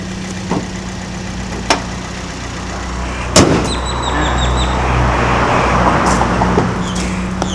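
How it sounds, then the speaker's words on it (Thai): A used Toyota Vios car engine idles steadily at close range, a low even hum with a few faint clicks and knocks over it, and no one speaking. "เครื่องเดินเรียบครับ"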